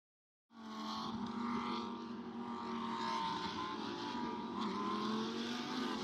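Lamborghini Super Trofeo race cars circulate behind a safety car during a full-course caution at Road Atlanta, a steady engine drone that holds at an even level after a sudden start.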